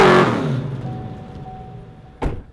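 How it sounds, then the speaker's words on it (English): A car doing a burnout fills the opening with a loud roar of engine and spinning tires that fades away steadily. A single dull thump follows near the end. "And that, my friends, is how you do a burnout."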